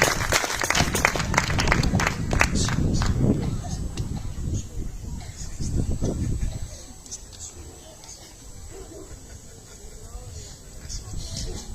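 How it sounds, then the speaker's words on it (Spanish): Church congregation clapping during an evening worship service, a burst of applause with voices over it that fades and thins out after about six seconds, leaving quieter murmuring. "Denle un aplauso al Señor en esta hermosa noche."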